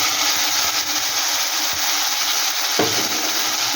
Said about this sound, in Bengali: একটু ভালো করে মিশিয়ে নিচ্ছি।